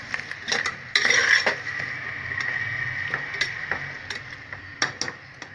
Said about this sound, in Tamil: கிளறி விட்டுக்கோங்க